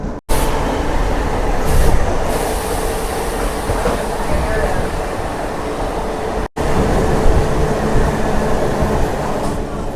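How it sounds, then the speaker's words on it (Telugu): A MEMU passenger train pulls into Hamsavar railway station in rain, a steady loud rumble of wheels and carriage noise close by, with brief cutouts and a voice speaking over it. "మనకైతే ఒక రైల్వే స్టేషన్కి వచ్చేసింది మన ట్రైన్"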